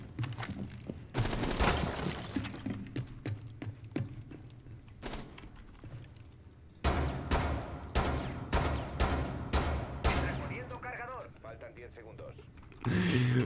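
Gunfire in the tactical shooter Rainbow Six Siege comes in rapid bursts of loud, sharp cracks. Players talk over and between the volleys.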